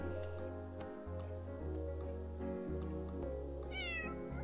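A calico cat in the video game Calico meows once, a clear high rising-and-falling mew near the end, over steady low game music.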